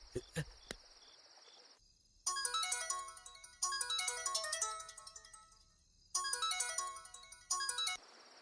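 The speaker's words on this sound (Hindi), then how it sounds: "गुरुजी फोन क्यों नहीं उठा रहे हैं?" A phone ringtone plays in loud repeated bursts of a bright melodic tune, with short pauses between rings. Nobody answers it, and a few short sharp sounds come just before it starts.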